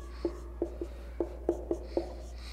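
Chalk or marker writing on a board during a physics lecture on torque, a series of short, distinct taps and scrapes at an uneven rhythm, close and fairly quiet with no talk.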